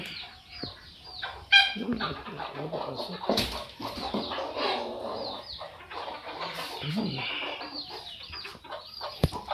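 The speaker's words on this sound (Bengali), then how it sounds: "মুরগি মুরগি এখানেও কিছু মুরগি আছে" Chickens cluck on a farm with cattle sheds nearby, a busy scatter of bird calls and other animal noises at moderate distance, with someone talking over them.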